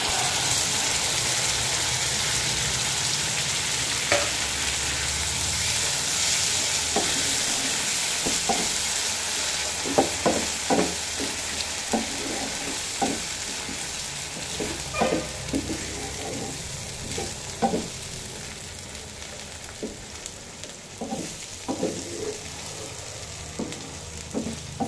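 Spinach paste hitting hot oil with browned onions in a pan gives a loud, steady frying hiss, broken by repeated scraping and tapping as a utensil stirs it, with no voices.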